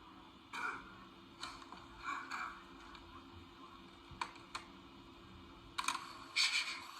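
Camera shutter clicks from a selfie taken in the Life Is Strange video game, several short, crisp clicks scattered over faint game ambience, with a cluster of brighter snaps near the end.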